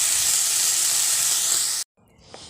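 Fish and prawns sizzle loudly in hot oil, a steady broad hiss that stops abruptly near the end, leaving a faint quieter sputter.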